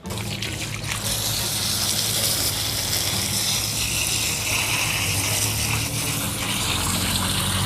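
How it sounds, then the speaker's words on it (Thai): A garden hose sprays water to loosen potting soil while repotting a desert rose plant, giving a loud, continuous rushing gush with splashing and trickling that stays close and steady. "เดี๋ยวไปฉีดน้ำก่อนแล้วกัน"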